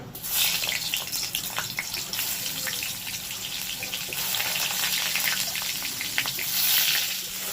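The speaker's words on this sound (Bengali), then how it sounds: "বেগুনগুলো ভালো করে ভেজে নিয়েছি" Eggplant slices fry in hot oil with a steady, close crackling sizzle and scattered pops that swell near the end, with no voices.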